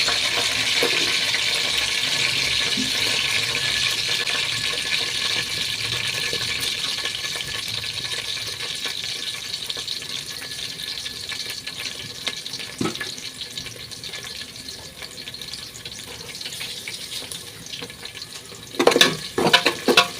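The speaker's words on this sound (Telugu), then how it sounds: "we gently fry the onions" Onions frying gently in a pan for egg biryani give off a steady, close hiss that runs through the whole stretch, with a few clinks of utensils near the end.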